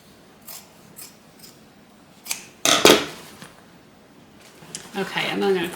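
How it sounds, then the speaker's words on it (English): Scissors trim back a fabric seam allowance on a sewn bag, making a few sharp close snips in the middle, followed by a voice talking. "I am going to trim back this seam allowance."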